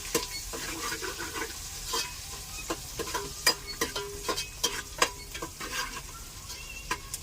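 Eggs and green chilies frying in a pan for an egg curry: a steady sizzle under repeated scraping and clinking of a spoon stirring against the pan, irregular taps growing more frequent midway.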